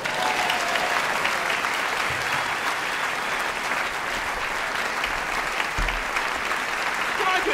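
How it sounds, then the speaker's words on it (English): An audience in a piano showroom gives a round of applause after a live performance, a loud, even crowd of clapping that holds steady for over seven seconds, with a few faint voices mixed in. "Round of applause."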